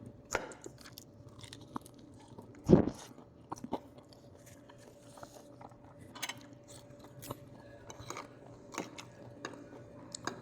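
Close, crisp crunching of a crunchy pastry, a panzerotti, being bitten and chewed, one loud crunch followed by smaller scattered chewing sounds.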